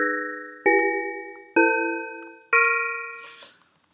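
Synthesized tubular bells built in SuperCollider ring out four times, each a clear struck chime that decays slowly, with the notes spaced roughly a second apart and the last tailing off into a soft hiss.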